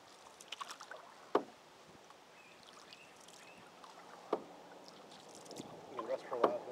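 Canoe paddling on the Black River near Glenfield, New York, with a few distinct paddle splashes and strokes spaced seconds apart over faint water and wind, and voices talking softly.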